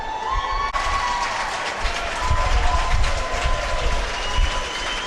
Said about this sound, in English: Continuing the tradition of applauding the audience, thanking them for their support